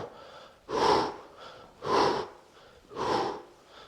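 Three strong breathy exhalations come at a steady pace of about one per second during an abdominal exercise, close and loud, with quieter breaths between them.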